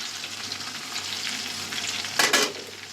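Onion fries in a pan with a continuous soft sizzle, and a brief louder stirring scrape near the end.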